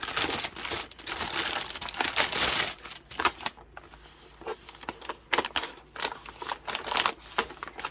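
Plastic bag crinkles and crackles up close, loud and continuous at first, then in irregular bursts of rustling as it is pulled open.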